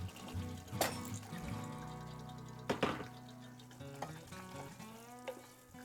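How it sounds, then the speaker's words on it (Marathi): Water splashing and pouring into frying tinda gravy in a pressure pan, with bursts of hissing sizzle and faint clinks, nearby and fairly quiet. "आता मी थोडं पाणी अजून घालणार आहे."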